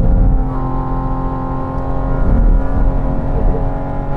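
A Porsche Cayman GT4 RS engine, mid-mounted, revs hard on a racetrack, a loud, sustained close-up drone that climbs steadily in pitch without talking over it.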